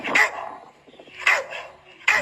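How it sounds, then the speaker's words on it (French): A female pet dog named Madoc barks three times, short sharp yaps spaced apart, close and loud, with quieter whining between them. "Madoc, ma chienne."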